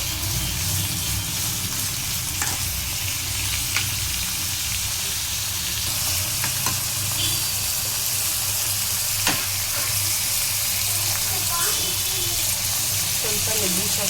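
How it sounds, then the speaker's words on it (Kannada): Food frying in a pan until reddish for egg rice, a loud continuous sizzle and crackle with occasional stirring scrapes throughout. "ಸ್ವಲ್ಪ ರೆಡ್ಡಿಶ್ ಆಗಿ ಫ್ರೈ ಆಗಿದೆ."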